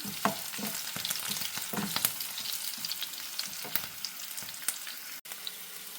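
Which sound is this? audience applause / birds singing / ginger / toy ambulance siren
ginger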